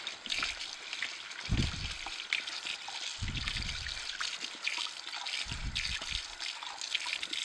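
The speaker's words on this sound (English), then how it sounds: "I'll rinse off the wiper blades." Running water rinses the wiper blades of a Sana EUJ-808 juicer, a steady close trickle and splash with a few heavier gushes, with no speech over it.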